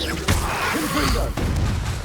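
Confringo explosive spell in Hogwarts Legacy, heard as punchy booming blasts with a crackling burst midway, set among dense game combat sounds and a talking voice.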